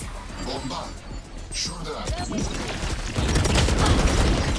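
Gunfire aimed at the Viper agent in Valorant: rapid bursts of shots and impacts mixed with game effects, growing denser and louder toward the end, with someone talking over it.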